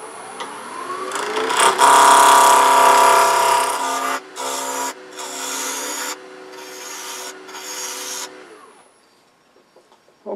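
A wooden napkin ring spins on a wood lathe as the tool cuts in, a loud, steady whirring hum broken into several sustained bursts before winding down and stopping.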